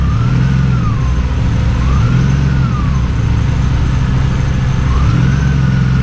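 A BMW E36 engine fitted with individual throttle bodies idles loudly and close by, its steady rumble rising and dipping in slow repeated surges, alone with no talk.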